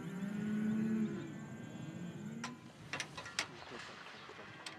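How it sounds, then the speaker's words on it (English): Jersey dairy cattle in a herd near Dalhart, Texas, give a single low, drawn-out moo in the first second. Faint clicks and rustles follow, with no talk. "Dr. Barbara Peterson is checking on a herd of Jersey dairy cattle near Dalhart, Texas."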